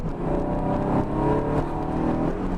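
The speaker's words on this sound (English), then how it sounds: "you can hear that mid-engine right behind your head" A 1995 Acura NSX-T mid-engine sports car drones steadily and rises slightly as it accelerates in second gear, heard from inside the car with a continuous rumbling hum, the engine right behind the seats.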